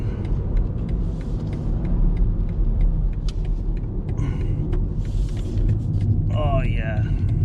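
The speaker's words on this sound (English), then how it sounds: "Hit the throttle." Engine of a 2020 BMW 118i pulling under throttle from inside the cabin, a steady low rumble running throughout with road noise, and brief speech-like bursts near the end.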